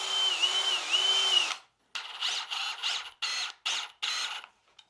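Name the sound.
drill spinning a wooden dowel to trim it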